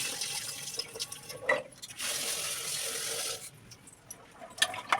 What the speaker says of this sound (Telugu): వీటికి ఇలా శుభ్రంగా వాష్ చేసుకున్నాం.